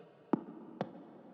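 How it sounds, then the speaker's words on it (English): Two punchy percussive hits from a progressive house percussive layer, built on a simple kick sample, strike about half a second apart over a quiet low hum, each with a sharp transient and short decay. "percussive layer, it sounds like this"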